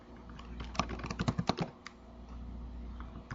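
Fingers type a SQL query on a computer keyboard, a quick run of close, crisp key clicks with a brief rapid flurry in the middle, over a low steady hum.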